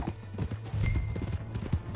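Horse hooves in Red Dead Redemption 2 clip-clop in a quick, steady rhythm, close and fairly loud, with no talk over them.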